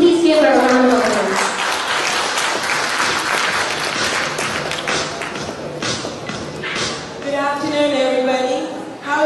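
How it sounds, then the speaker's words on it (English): An audience applauds to welcome the Regional Head of Education Practice for Dell South Asia, steady clapping that fills the room for several seconds while a speaking voice rises over it at the start and again at the end. "Can you please give her a round of applause?"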